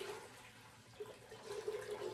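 About one and a half quarts of water pour into a pot for homemade dill pickle brine, a faint, steady splashing rush with no talk.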